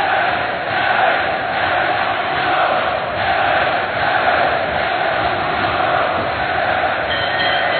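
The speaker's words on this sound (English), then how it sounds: "The crowd shouting and chanting the two touch gloves" A large boxing-arena crowd shouting and chanting in a steady, continuous roar with rhythmic swells, dense and loud throughout without breaks.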